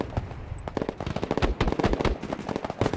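A weapons team laying down suppressive machine-gun fire in the war game Broken Arrow, rapid close bursts of sharp shots rattling almost nonstop.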